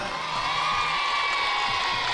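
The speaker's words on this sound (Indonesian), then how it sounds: "Tepuk tangan." Audience applause and cheering from students of an Islamic boarding school at a festive stage event, a dense, steady crowd roar with whoops and shouts held evenly throughout.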